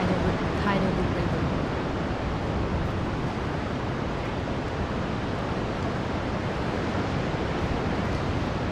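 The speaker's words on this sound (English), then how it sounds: "So right now we are seeing the Qiantang tidal river." Tidal bore surging up the Qiantang River in eastern China, heard as a steady, dense roar of rushing water and surf that fills the whole stretch without pause.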